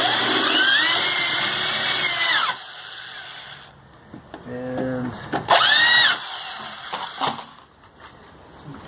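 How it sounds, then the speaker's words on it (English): A power drill whirs in short bursts as it bores out a pop rivet on a wheelbarrow, rising and falling in pitch between pauses, close and fairly loud, with someone speaking briefly between the runs. "a drill"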